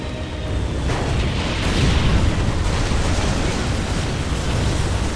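Dense, continuous rumbling barrage of artillery explosions in the Ultimate Apocalypse strategy game, a loud wall of overlapping booms with no clear gaps between blasts.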